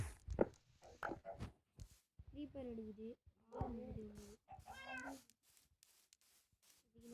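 Several short cat meows with a synthetic, game-like quality from a Minecraft cat, sounding at intervals amid other brief clicks and sounds, with a voice talking between them.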